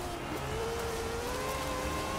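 A Nissan Pulsar GTI-R from 1990 in Forza Horizon 4, tuned with a ton of added horsepower, holds a steady engine drone with a slowly rising whine, moderately loud and unbroken, with no talking.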